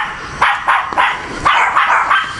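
Dogs barking repeatedly, about six sharp, loud barks in an uneven rhythm over steady background noise, fairly close by.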